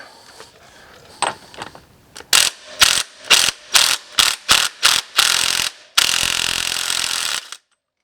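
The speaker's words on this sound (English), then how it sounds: "that's when you'll grab a 32mm socket" A ratchet with a 32mm socket clicks in rapid bursts, about ten short pulls, on the front sprocket nut of a CFMOTO IBEX 450, ending in a longer continuous ratcheting run, loud and close.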